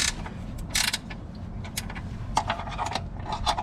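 A camber kit bolt on a 2017 Lexus IS200t is tightened with a ratchet, giving a series of short, bright metallic clicks and clanks at an uneven pace, close by over a low background rumble.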